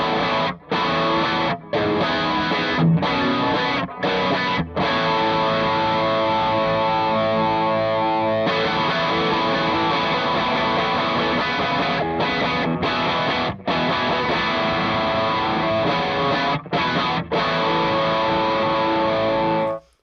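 Electric guitar on the bridge pickup of a Suhr, through a chorus pedal into a pushed amp and an Eventide, playing a continuous chordal passage with brief gaps between phrases, full and driven before stopping abruptly.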